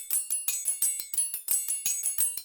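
Unprocessed hi-hat loop from a melodic drum and bass track, crisp bright ticks in a quick steady rolling pattern with faint low thumps underneath, alone and moderately quiet.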